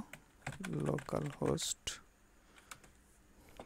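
Someone types localhost on a computer keyboard in a few quick bursts of close, clattering keystrokes, then a couple of lone clicks before a quiet room.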